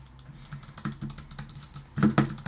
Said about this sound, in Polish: Nawalać w tą myszkę jak szalony